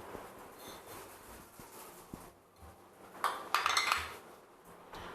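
Eggs, sugar and other ingredients for a lemon moelleux being mixed in a bowl, soft scraping and a burst of quick clinking utensil strokes against the bowl, fairly quiet and close.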